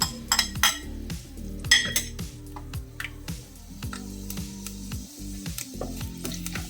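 Mustard seeds, dried red chillies, fenugreek and urad dal fry in hot oil for puli inji, giving a close, steady sizzle and crackle with frequent clinks of a metal spoon against the pan, over faint background music.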